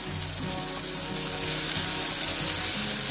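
Pav bhaji mixture sizzling in a pan while being stirred after red chili powder and Byadgi chili masala are added to sautéed tomato; a steady, soft frying hiss with faint scraping, no talk.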